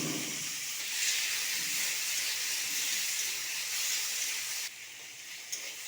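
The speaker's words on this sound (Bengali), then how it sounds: "তেলটা গরম হয়ে গেছে, এরপরে আলুটাকে দিয়ে দিচ্ছি" Potato pieces frying in hot mustard oil give a steady, close hiss and sizzle that holds even throughout, easing slightly near the end, with no one talking.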